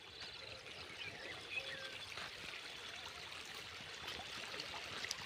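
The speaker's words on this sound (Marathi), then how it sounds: "चालू आहे पाणी" Irrigation water runs steadily into an onion field, a faint, continuous trickling and pouring stream that holds unchanged throughout, with no talk over it.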